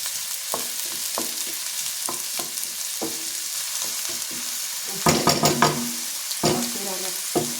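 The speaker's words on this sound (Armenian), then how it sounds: "Լավ տապակվի իրար հետ։" Chopped onion and carrot frying together in oil in a pan, a steady sizzle broken by repeated sharp scraping stir strokes, busier and louder in the second half, with no talking.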